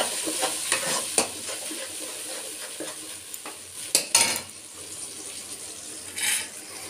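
Spice paste sizzles in hot oil after cumin seeds were tempered, while a spoon stirs and scrapes the pan in irregular bursts, close and clear with no voices.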